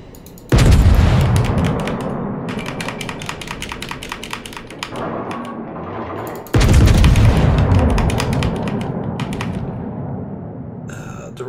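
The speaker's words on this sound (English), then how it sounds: "Oh no, it's his torpedo." A torpedo strikes a warship in the World of Warships video game, two loud booming explosions with rumbling blasts and crackling debris, the second bursting out midway, dense and close with game clatter throughout.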